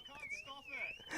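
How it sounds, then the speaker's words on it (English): A Volkswagen GTI's car alarm wails in a rising and falling electronic siren, loud and close, at a race-meeting grid. "Hayden Kilsby has set the alarm off on his GTI"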